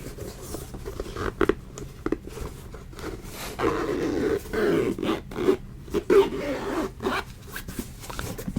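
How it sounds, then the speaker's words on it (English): A rose gold zipper on a small box is pulled in a run of quick rasping strokes, some short, some drawn out, close up with faint background noise. "it has like this rose gold zipper on it"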